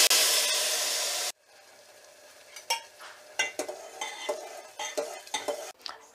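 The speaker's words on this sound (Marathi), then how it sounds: "आता आपण शिजवून घेतलेली जी डाळ आहे ती मिक्स करून घ्यायची आहे" Cooked dal is stirred in a pot for Maharashtrian Malvani varan. A loud hissing burst cuts off sharply, followed by a quiet run of irregular scraping and clinking ladle strokes against the pot.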